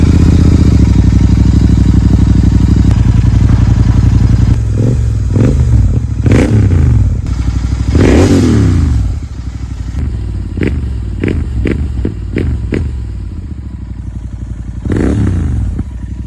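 A Royal Enfield GT 650 twin fitted with AEW 103 silencers idles loud and close, then blips its throttle in a string of sharp revs that rise and fall.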